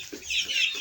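Kuroiler chickens, a local hybrid breed, cluck in a farm brooding pen. Close, continuous high-pitched clucking and chirping comes from several birds at once, with no talk.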